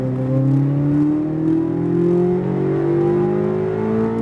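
A Corvette Z06 accelerates on the SpeedVegas race track, its engine note climbing steadily in a smooth, sustained rising whine, heard close and alone.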